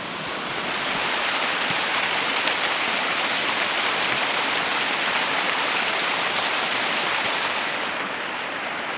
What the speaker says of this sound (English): I found my waterfall.